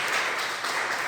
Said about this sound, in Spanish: Le damos un aplauso aquí calladito al Señor,